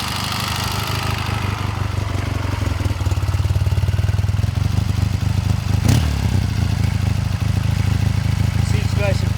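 A 1979 Triumph Bonneville Special 750 motorcycle engine runs steadily up close, a throbbing low exhaust rumble with mechanical clatter that builds slightly in pitch as it revs, continuous throughout.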